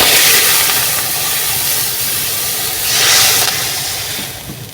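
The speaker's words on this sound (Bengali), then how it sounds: "নারকেলের দুধটা দিয়ে দিলাম" Coconut milk poured into a hot pan for village-style payesh on a clay stove, a steady loud hiss of steam that swells briefly midway then eases.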